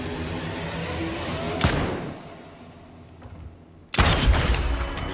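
Two loud, sharp gunshots ring out in a video game, one early and one near the end. Each cracks hard and then fades into a long, echoing tail, with quieter background noise between them.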